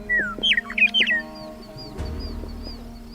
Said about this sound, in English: The lark's song is about to sound.